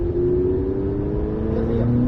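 An engine hums steadily from inside a McLaren 600LT on a race circuit, its tone shifting slightly as the car picks up speed.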